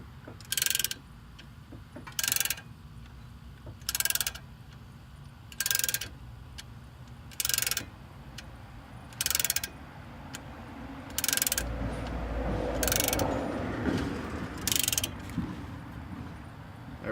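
A ratchet cranks back the front brake caliper piston on a 2013 Kia Forte, nine crisp metallic clicking bursts at steady intervals of about 1.5 seconds, close up, with a low rumble building near the end.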